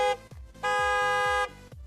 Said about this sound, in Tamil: உங்க கார் ஹாரன் அடிக்கலாம்